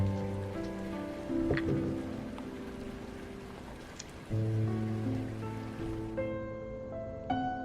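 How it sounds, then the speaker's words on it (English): Steady rain patters in the video game Rainswept, a continuous soft wash running under layered sustained music tones with no voices. "I love the sound of thunder and the rain."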